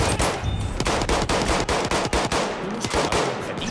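Rapid automatic gunfire from the video game Battlefield 1 rattles out in dense, uneven bursts of sharp cracks, loud and continuous for a few seconds with no voices.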